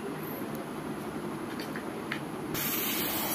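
An old, bent steel rail on a Malaysian palm oil company railway is being cut, giving a loud, continuous harsh hiss that holds steady and then brightens sharply near the end.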